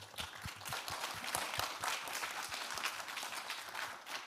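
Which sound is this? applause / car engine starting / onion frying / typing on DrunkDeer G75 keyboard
applause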